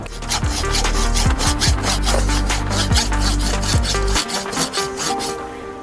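A hand saw rasps steadily back and forth through a bonsai trunk, each stroke clearly audible in a brisk rhythm, then the sawing slows and stops.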